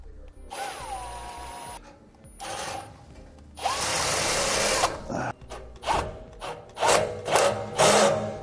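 Power tool tightening the clamps around the bent ears on rear air helper springs, with a heat shield, while installing an Air Lift LoadLifter 5000 kit; the tool sounds in repeated short, loud bursts, close by, with no talk.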